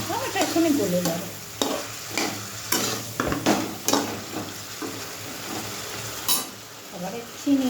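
Chopped tomato sizzles and fries in a pan while a utensil stirs and scrapes it in a series of close, uneven strokes, with the frying hiss running steadily beneath them.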